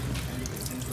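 Dogfish shark (cazón) being rinsed under a running kitchen tap, a steady close splash of water into the sink with no talk.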